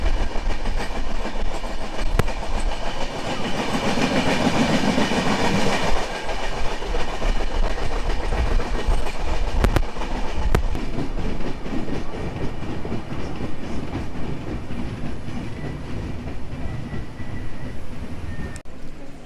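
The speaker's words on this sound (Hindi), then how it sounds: "अपनी ट्रेन डिपर्चर हो रही है चंद्रकोना रोड से।" The Puruliya Howrah Ruposhi Bangla Express runs out from Chandrakona Road station with a loud, continuous rumble and a steady clickety-clack of wheels over the rail joints, heard from on board with no talking.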